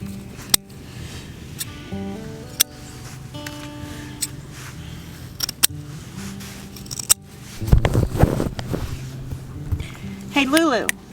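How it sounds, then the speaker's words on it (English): Scissors snipping fresh thyme and oregano outdoors on a farm, sharp, isolated clicks scattered through, near and distinct, with a voice speaking over them and a dog shuffling nearby. "I just came over here to cut some of this thyme and oregano."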